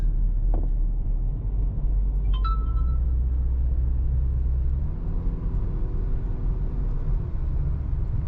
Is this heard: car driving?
yes